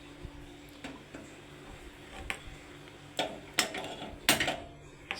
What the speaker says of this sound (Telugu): స్టవ్ ఆన్ చేసుకొని